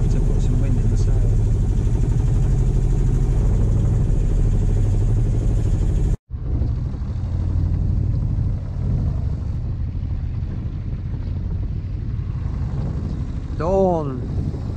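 A sailboat's motor runs through the night on a solo coastal passage, a loud, continuous low drone with a momentary break partway through and a faint chirping tone near the end.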